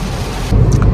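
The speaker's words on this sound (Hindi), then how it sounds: "यार बहुत प्यारी बारिश हो रही है।" A heavy downpour roars as a steady wash of rain noise, with a deep rumble of thunder swelling in partway through, loud and close with no voices.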